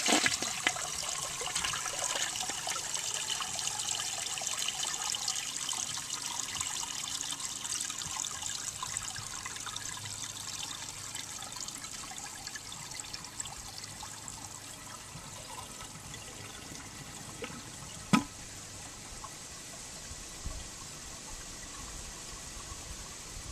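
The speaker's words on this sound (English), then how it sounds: "And now here is the first flush of the 1970s Cadet." A 1970 American Standard Cadet toilet flushes, a steady rushing wash of water running for over twenty seconds at close range with a brief sharp knock near the end.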